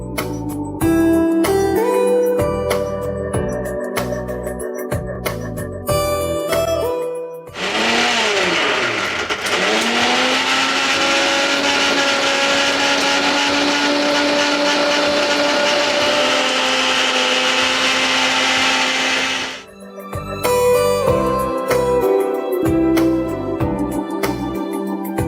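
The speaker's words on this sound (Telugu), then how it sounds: "ఇందులో కొంచెం చింతపండు కూడా వేసేసి ఇప్పుడు మళ్ళీ మిక్సీ పట్టేసుకుందాం." Mixer grinder whirring loudly and steadily for about twelve seconds as it grinds amaranth leaf chutney with tamarind, starting and stopping abruptly between bursts of clattering from the mixer.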